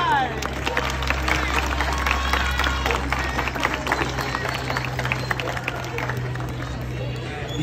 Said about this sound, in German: Applaus noch, bye bye!